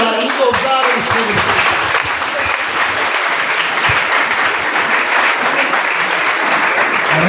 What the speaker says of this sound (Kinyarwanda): arakoze cyane tumwongera amashyi Rugenzi